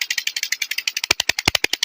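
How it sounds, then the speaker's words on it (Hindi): A village tubewell pump runs outdoors with a fast, regular mechanical pulsing clatter that turns heavier and more pronounced partway through, close and loud, with no voices. "ट्यूबवेल चल रहा है"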